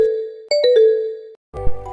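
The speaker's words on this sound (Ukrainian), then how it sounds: "здається, мені хтось телефонує" A short electronic phone ringtone of bright, chiming tones, followed by a brief burst of a different melodic ring.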